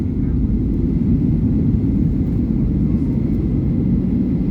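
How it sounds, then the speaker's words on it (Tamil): A passenger airplane touching down at a Paris airport at night, heard as a loud, steady low roar of engines and rumbling that fills the whole stretch without a break. "ஓகே, விமானம் தரையை தொடுகிறது."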